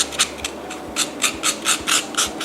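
Coconut grated by hand into long thick strands, a loud close rhythmic rasp repeating about every quarter second in steady strokes, no talk.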